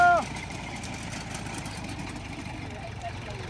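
A tractor engine idles with a steady, moderately loud rumble throughout, with a short tone at the very start and voices faintly present.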